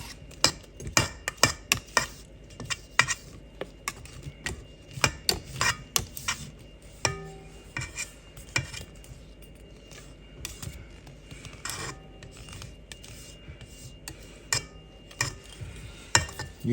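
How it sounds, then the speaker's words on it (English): A utensil scrapes and taps against a bowl of blueberry cream cheese pie filling, giving a run of sharp clinks and scrapes, close and irregular, with no voices. "I'm going to do another scrape."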